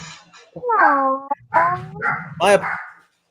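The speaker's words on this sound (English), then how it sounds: "My apologies about the background with my dogs." Pet dogs indoors give a string of close, loud whining yelps and barks, several rising and falling cries in quick succession before stopping.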